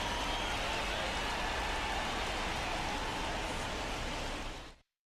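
Steady, dense rain pours down at a baseball game between the Astros and Yankees, a loud continuous hiss that holds evenly for several seconds before cutting off abruptly.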